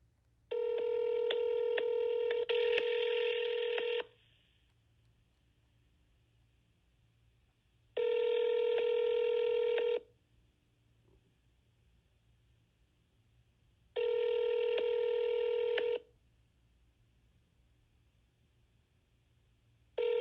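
Repeated telephone ringback tones on a call placed back to a business, each burst about two to four seconds long and separated by pauses, clear and moderately loud with no voices.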